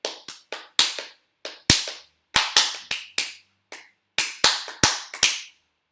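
Sharp hand claps from two people in loose, uneven timing, the claps falling out of step in irregular clusters with brief silences between.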